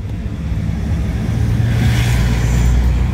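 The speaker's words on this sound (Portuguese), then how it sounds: "O caminhão vem, caramba." A truck passes close on a steep mountain-road descent at Serra do Rio do Rastro, its loud broadband roar swelling steadily over a constant low rumble, without talking.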